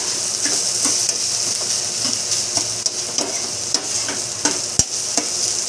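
Yellowfin tuna sisig sizzles loudly and steadily in a hot pan, with a spatula scraping and clinking in irregular strokes throughout and one sharp knock near the end.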